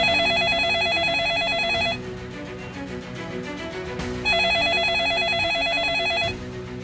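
A telephone rings in two long electronic bursts separated by a pause, loud and close, with a murmuring background underneath.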